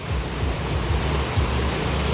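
Strong river current rushing hard in the Philippine countryside, a dense, continuous roar of water heard close and alone.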